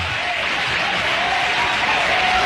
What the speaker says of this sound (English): It's cheap applause.